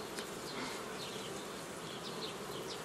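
Honeybees swarm over an open hive during apiary work on a nucleus colony being strengthened with capped brood, giving a dense, steady, close-up buzz that fills the whole stretch, with a few brief higher whines of individual bees passing near, and no voices.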